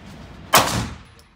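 A single sharp gunshot from a Zigana Model F pistol cracks out close and loud, then decays over about a second, with no talking.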